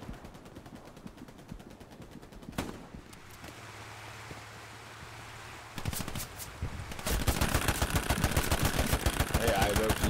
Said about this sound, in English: be careful, there's a machine gun over there.